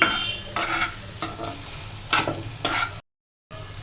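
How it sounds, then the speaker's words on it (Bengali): Okra being fried in a home kitchen pan, with stirring scrapes and soft sizzling in several short bursts that stop briefly near the end. "আজকে ঢেঁড়স ভাজি করছি"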